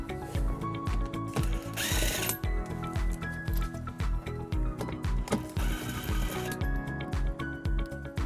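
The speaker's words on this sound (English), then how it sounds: "for those bolts, we're also going to use a 10mm socket" A ratchet drives a 10mm socket to remove bolts while fitting a trailer hitch to a 2016 Tesla Model S. Rapid, loud, steady clicking runs throughout, with brief metallic scrapes mixed in.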